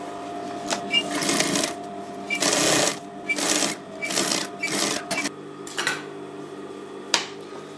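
A sewing machine stitching the zipper into a trouser front fly, running in repeated bursts of fast mechanical whirring separated by short pauses and clicks, close and loud.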